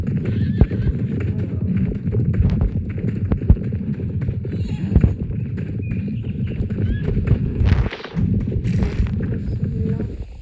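Horses in a western video game whinny loudly and clip-clop at a run, with hoof beats thudding close and steady, neighs breaking through repeatedly, and voices talking over the scene.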